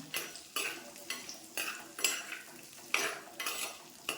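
Okra frying in a pan for a coconut milk curry, with a constant sizzle under regular, loud scraping strokes of a utensil against the pan, about eight strokes in a steady rhythm.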